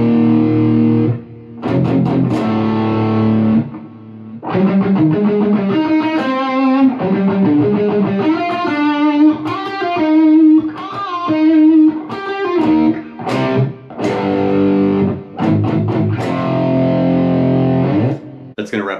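A distorted electric guitar plays a classical-influenced riff, loud and close, with sustained melodic lines broken by short pauses and choppy chord stabs.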